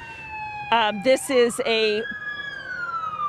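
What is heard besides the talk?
police sirens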